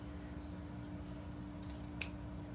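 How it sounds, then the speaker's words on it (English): Scissors cutting ribbon while making a Halloween wreath: one quick, faint snip in an otherwise quiet room with a low steady hum. "Okay, so I'm taking my scissors"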